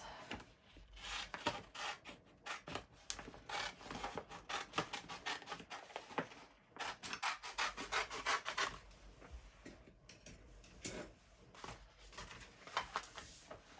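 Craft vinyl being trimmed, a soft, close series of rapid scraping and rubbing strokes in irregular bursts, faint and continuous for several seconds.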